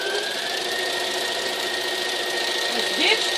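Sewing machine free-motion quilting on newspaper with the presser foot down, a steady close mechanical whir running continuously at an even pace.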